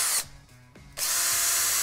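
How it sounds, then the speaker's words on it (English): A power drill with a 3/16 inch bit bores a drainage hole, a loud high whine that drops out briefly and then surges back at full speed, close and alone. "drill a drainage hole"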